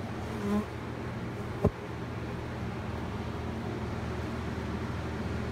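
A dense, steady hum of many honey bees buzzing all around, close and constant, with a brief knock partway through.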